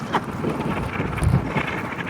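Wind buffets a phone microphone outdoors, producing a steady, low, rumbling roar with gusty swells and no speech.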